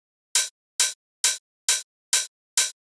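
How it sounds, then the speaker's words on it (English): Six crisp open hi-hat sample hits from a trance drum loop, repeating in an even, quick rhythm, bright and sizzly with short decays and nothing else underneath. "And just hi-hat open."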